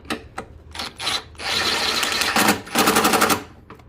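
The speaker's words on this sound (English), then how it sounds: "your impact, just make sure on number 1 setting. Tighten this up." An impact wrench on its lowest setting tightens an engine mount bolt on a Honda CR-V 2.4L, with several short rattling bursts and then two longer hammering runs close by, separated by brief pauses.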